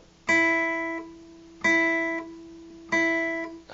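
A single guitar string is plucked three times, each note ringing briefly before being cut short by a finger muting it, giving an abrupt chopped-off decay; close and alone.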